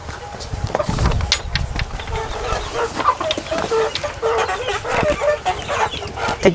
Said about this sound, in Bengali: ভিডিও করাই মুশকিল হয়ে যাচ্ছে যেহেতু মোরগ ডাকাটাকি করছে